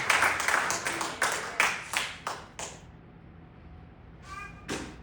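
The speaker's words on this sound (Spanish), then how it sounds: "denle un aplauso al Señor" Church congregation clapping in praise during a service, a dense run of sharp claps for about three seconds that breaks off into a quiet room with a couple of faint later claps.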